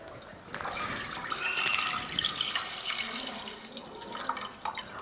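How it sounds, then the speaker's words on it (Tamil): A liter of milk pours into a pot for payasam in a home kitchen, a continuous close liquid stream splashing and gurgling as the pot fills, steady and fairly loud with no talk. "ஒரு லிட்டர் பால் சேர்த்துக்கிறேன்."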